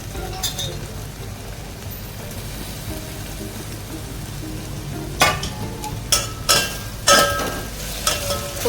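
Carrot and capsicum sautéing in a pan, a soft continuous sizzle that turns busier toward the end with several sharp scraping stirs and clatters, close by, no talking.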